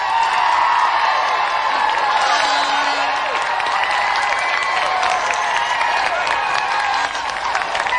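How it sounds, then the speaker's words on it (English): Studio audience applause fills the air on a UK television games show, a sustained wash of clapping with some cheers and whoops, steady and loud for the whole stretch. "Let's have another round of applause for Dean Mortlock and Paul Mellerick."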